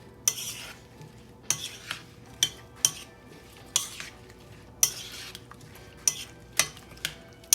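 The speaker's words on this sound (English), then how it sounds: "I'm gonna stir all this up." A spoon scrapes and clinks against a bowl while mixing a cantaloupe mixture seasoned with nutmeg, giving a series of sharp metallic taps spaced about a half-second to a second apart over quiet kitchen background, fairly close and moderately loud.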